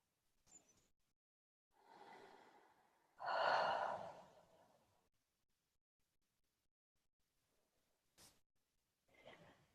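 Slow, soft breathing during a guided relaxation with a hand resting on the lower belly: a drawn-out exhale swells and fades, with faint breaths and short pauses around it, quiet and close.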